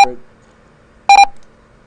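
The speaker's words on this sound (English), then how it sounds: "these are just alarms that come up on the startup" Two short electronic startup alarm beeps from a diesel lab system, the first brief and the second a quick double pulse, sounding clearly against a quiet background.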